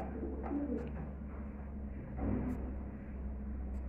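Flying pigeons, a golden paired with a local Giribaz tumbler, coo faintly nearby in a few soft, low murmurs. A slightly stronger coo comes midway over a quiet steady hum, with no talking.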